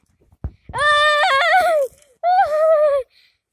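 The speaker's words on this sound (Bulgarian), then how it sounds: "Ето това е коня." A young horse, seen up close in a stable, lets out two loud drawn-out whinnies after a soft thump, with a short pause between the calls.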